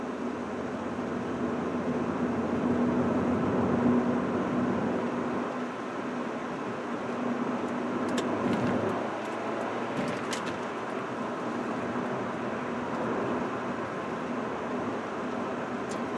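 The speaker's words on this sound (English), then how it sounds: "The road noise, it is a little loud in here." Steady broadband road and tire roar fills the cabin of a 2005 Mitsubishi Eclipse while driving, a constant moderately loud hum with a few faint clicks and no talking.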